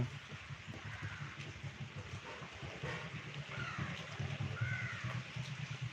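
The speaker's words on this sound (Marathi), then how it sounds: "आमचा इकडे पाऊस चालू आहे" Steady rain falls with a soft, even hiss, while crows caw now and then in the distance.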